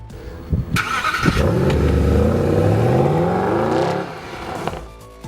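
A 2013 Mercedes-Benz SLS AMG GT coupe engine revving loudly up close, a rising, rumbling roar that climbs in pitch for a few seconds, then drops back to idle.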